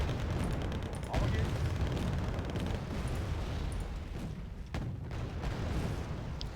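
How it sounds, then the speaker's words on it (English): Artillery fire in Wargame Red Dragon during a 2nd Korean War battle: a continuous low rumbling barrage with a couple of sharper booming impacts, under a talking voice. "the artillery is getting a little bit annoying over here"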